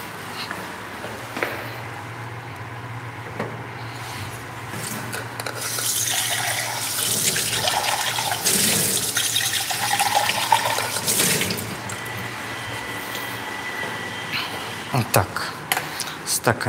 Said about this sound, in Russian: Добавим 10 миллилитров дистиллированной воды.